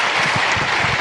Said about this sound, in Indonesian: Are you not going to clap that?